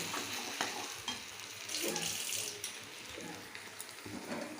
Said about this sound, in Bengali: এবার আমি এই ভেজে রাখা আলুগুলো এখানে দিয়ে দেব।